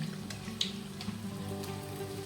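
Kachayam sweet fritters frying in hot oil give a steady, close crackling sizzle with scattered sharper pops, and no one speaks.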